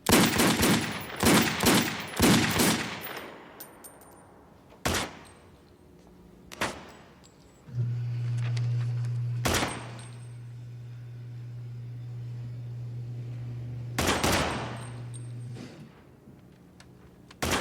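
Handgun shots at a shooting range: a rapid burst of loud cracks at the start, then single sharp shots spaced through the clip, with a steady low hum in between.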